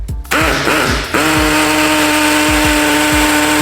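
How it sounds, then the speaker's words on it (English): A cheap hammer drill bores a hole into a concrete block, starting with a couple of short bursts and then running into a loud, sustained whine with a rapid hammering rattle throughout. "let's pop a hole in this concrete block and see how it gets on"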